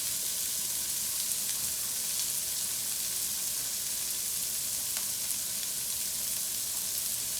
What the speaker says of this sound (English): I'm gonna add 1 large onion